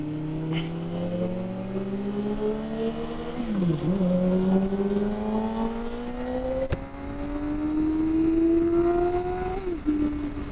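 A Suzuki GSX-R 1000 motorcycle with a Yoshimura exhaust accelerates on a night ride. Its engine note climbs steadily in pitch, drops briefly at two gear changes, then climbs again, loud and continuous.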